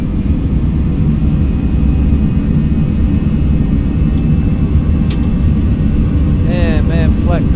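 A ToLiss A319 airliner in the X-Plane 11 flight simulator spooling its engines up to takeoff thrust: a loud, steady, broadband roar throughout, with a brief rising whine near the end.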